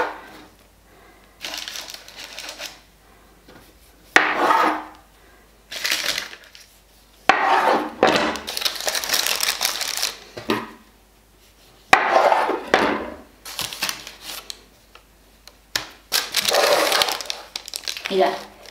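A knife cuts through rolled cinnamon roll dough on a board, giving soft crunchy, crinkling cuts in irregular bursts close to the mic, with someone talking over and between the strokes.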